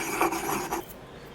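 Salt ground to a powder for fire roasted salsa, heard as a close, rough rasping scrape in a few quick strokes.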